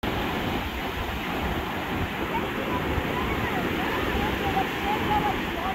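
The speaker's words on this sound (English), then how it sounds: "Told you, look, the tide's coming in." Waves of an incoming tide wash ashore in a continuous broad rushing roar, steady and close, with no distinct breaks between surges and no voices.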